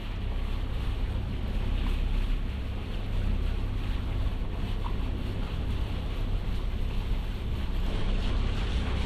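A boat motors through a narrow gap at sea, its engine a steady low rumble with broad wind and water noise rushing over it, continuous and loud with no talk.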